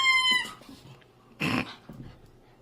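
A dog growls and yips while playing with a giant orange toy, a sharp whining cry opening, then a burst of rough growling and a shorter grumble, close and loud with no talk.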